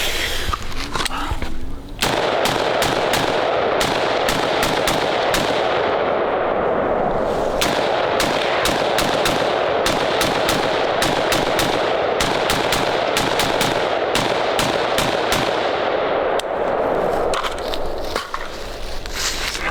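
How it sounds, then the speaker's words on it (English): A Sig Spear LT 5.56 rifle firing continuous magazine dumps, with loud, rapid shots hammering in dense strings for most of the stretch and a brief pause early on. "a couple of mag dumps, nothing special, but it shows how well this thing runs"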